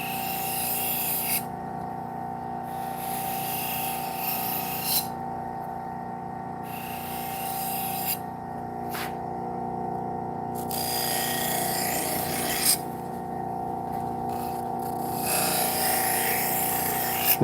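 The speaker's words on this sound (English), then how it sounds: "the knives tend to make a lot of noise when they're touching that leather" A knife blade buffed against a spinning leather wheel, a steady whirring hum with rasping, hissy scrubbing that comes and goes in several bursts as the edge touches the leather.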